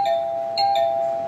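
A Milton's Bells wireless door chime plays a short electronic tone, a steady ring with two brief ding accents, clear and alone indoors.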